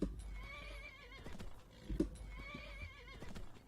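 A horse in the Skyrim video game neighs in two loud whinnies, each with a wavering high pitch, over clip-clopping hooves close by.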